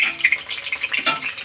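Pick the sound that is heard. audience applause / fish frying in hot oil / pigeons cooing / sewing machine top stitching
fish frying in hot oil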